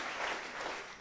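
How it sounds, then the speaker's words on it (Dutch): Brief burst of audience applause for the Solar Team Twente students at their design presentation, a quick dense patter of clapping lasting about a second. "Ja, geef ze nog een applaus, want dit zijn de mensen die het doen."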